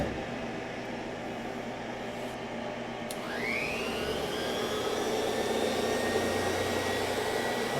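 Steady machining whir from a CNC Bridgeport mill cutting with mist coolant, with a continuous airy hiss and a rising whine that settles into a constant tone, heard close with no talking.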